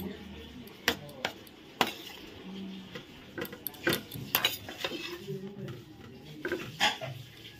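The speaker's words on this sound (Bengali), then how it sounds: "একটু হলুদ দিয়ে নাড়াচাড়া করে নেব" A utensil stirs turmeric into a paste in a pan, producing intermittent metallic clinks and knocks with soft scraping between them, close and moderately quiet, with faint voice in the background.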